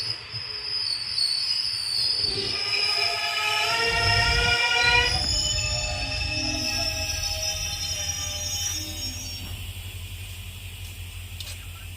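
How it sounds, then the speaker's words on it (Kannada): The Kuvempu Express train rumbles into a station with a loud, drawn-out horn and squealing wheels, then rolls on steadily, close by. "ನೋಡಿ ಟ್ರೈನ್ ಬಂತು ಈಗ, 20 ನಿಮಿಷ ಲೇಟಾಗಿ ಬಂದಿದೆ."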